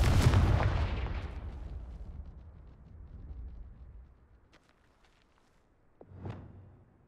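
A fire spell explosion in the Hogwarts Legacy video game, cast at a ruined castle, starts with a loud booming blast that rumbles and fades over several seconds, followed by a sharper, smaller burst near the end.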